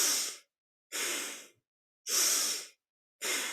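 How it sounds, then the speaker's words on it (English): Four forceful, rhythmic breaths during a kundalini yoga exercise, each a loud, hissing push of air lasting about half a second, separated by silent pauses, close to the microphone with no talking. "As you inhale up, exhale down, powerful breath."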